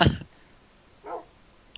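Dogs in the Minecraft video game give a short bark near the start, followed by a fainter yip or whimper about a second later, with a small chirp at the very end.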